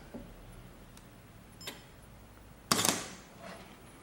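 A quiet pause with a few faint ticks during a two-second timer delay set on a JY-710 timer remote release, then a sharp mechanical camera shutter click and whir, followed by a soft trailing rattle.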